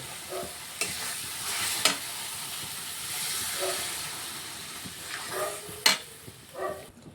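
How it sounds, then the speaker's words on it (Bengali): Tangra fish curry gravy simmers in a pan with a steady soft bubbling hiss, broken by several sharper scraping stirs, fairly quiet and with no voices. "এখানে আমাদের ঠিক ঝোলটা ফুটে উঠেছে"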